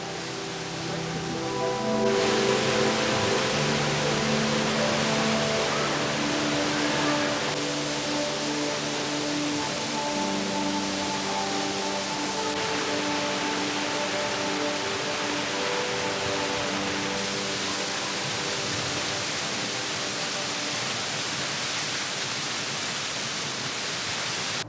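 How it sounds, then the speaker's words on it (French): Waterfall tucked among cliffs in a gorge, a loud steady broadband rush that holds for the whole stretch, with a faint tonal hum layered underneath and no talking. "on arrive au pied de cette jolie cascade,"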